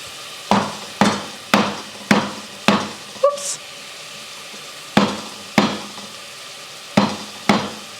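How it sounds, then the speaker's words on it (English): Ginger being bashed in a kitchen, a run of sharp, close knocks about every half second, with a short pause and a faint clink partway through. "I'm just going to bash it because I just want the flavor of it"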